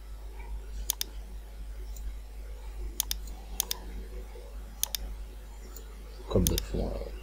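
Sparse clicks of a computer keyboard while typing text into Real Draw Pro, a few quick keystroke pairs spaced seconds apart over a low steady hum, ending with a brief rustle.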